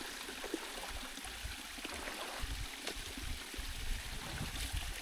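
A small waterfall on a trekking trail near Cox's Bazar trickles and gurgles steadily, low-volume splashing water close by with uneven bursts and no talk.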